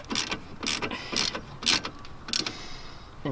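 A ratchet tightens the rear brake bolts on a 2009 Ford Focus during a brake pad job, giving five short, close bursts of rapid clicking with brief pauses between them and no talking.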